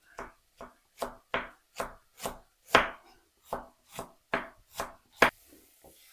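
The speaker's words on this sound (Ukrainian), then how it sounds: "поки смажиться, я буду шаткувати цибульку, капусточку" A knife shreds cabbage rhythmically against a cutting board, about a dozen crisp strokes at a steady pace, close and distinct with no talking.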